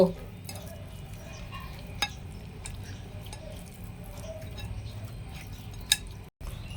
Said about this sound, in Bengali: এখন আমি সবগুলো মশলা মাছের সাথে ভালো করে মিক্স করব।